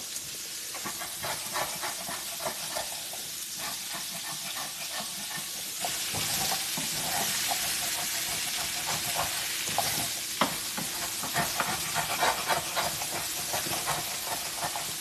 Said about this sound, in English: Just take your vegetables, throw straight in there. We'll get them brown bits up with a wooden spoon.